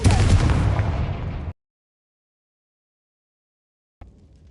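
A Confringo spell explosion from a Harry Potter video game erupts as one loud, booming blast for about a second and a half. It cuts off abruptly to silence, and a faint, low rumble returns just at the end.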